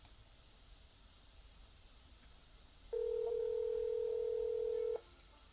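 Telephone call tone after clicking call in a conference calling setup, a single steady electronic tone lasting about two seconds over faint background hiss.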